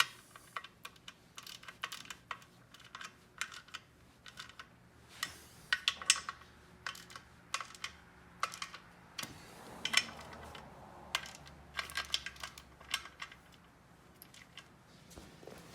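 Torque wrench working around the flex plate bolts of a C3 Corvette during restoration, a steady series of sharp close clicks and ratchet ticks scattered through the stretch, with no talk.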